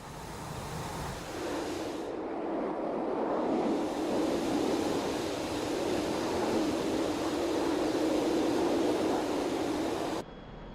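A MiG-29A jet aircraft in the DCS World flight game gives a loud, steady broadband roar that holds for about ten seconds, then cuts off abruptly, with no voices.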